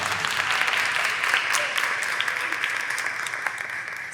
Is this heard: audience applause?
yes